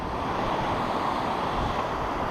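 Waves break on a fishing beach, a steady, fairly loud roar of white water mixed with wind buffeting the microphone, with no voices over it.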